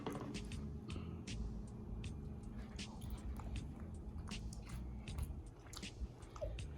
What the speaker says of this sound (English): So let me try some of the rice with the gravy first.